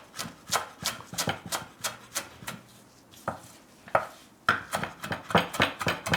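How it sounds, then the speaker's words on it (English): A knife roughly chopping fresh parsley on a board, for a vegetarian crab cake recipe, gives a fast run of crisp, close taps, with a short pause midway before the chopping picks up again. "Just gonna roughly chop it."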